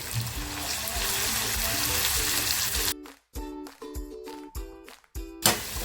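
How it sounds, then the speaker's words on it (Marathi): Chopped onion and garlic hit hot oil in a pan, a dense sizzling hiss for about three seconds that then breaks into choppy bursts and clatter as the pan is stirred, with no talk. "तेल तापत ठेवलंय अगोदर यांना लसूण टाकून घेते कांदा जो बारीक करून घेतला होता तो टाकतो"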